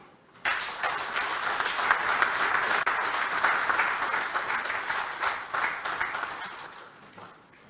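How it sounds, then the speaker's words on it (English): Audience at the commissioning and handover of the African Continental Free Trade Area Secretariat bursts into sustained applause after the president's speech, a dense wash of clapping that holds steady for several seconds before easing off. "may I ask for another round of applause"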